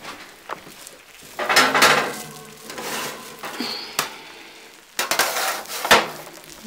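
A baking dish is handled and slid into an oven, giving scattered clinks and knocks of dish against rack, with a couple of sharp metallic clacks and a rattle near the end, close and moderately loud.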